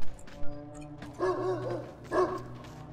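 A dog in the video game Mad Max gives a few close barks and yips, with short whining cries between them.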